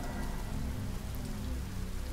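Pouring rain in a steady, dense hiss beats down on a surface, loud and close. The downpour runs unbroken throughout and no voices are heard.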